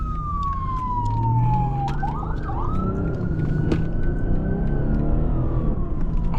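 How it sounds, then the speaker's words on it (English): An ambulance siren wails as it passes outside a 2021 BMW 540 on the road, sweeping down and then up again in long tones over steady engine and road noise, moderately close. "Ambulance."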